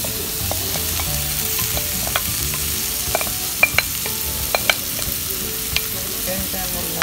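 Tofu sisig sizzles loudly in a hot pan as sauce goes in, a dense continuous frying hiss broken by sharp little pops and spatters, heard up close with no talking.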